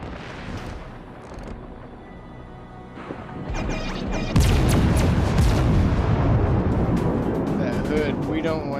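Rapid naval gunfire from a warship's fast-firing guns in World of Warships, loud booming blasts and crashes building into a dense, continuous barrage over background game noise, with a voice talking throughout.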